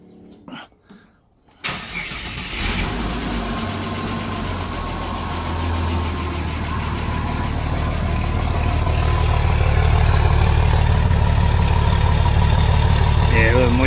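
A 1993 Ford XG engine, ex-police divisional van, cranks and catches, then settles into a steady idle with a light mechanical tappet ticking, growing slightly louder and rougher over time.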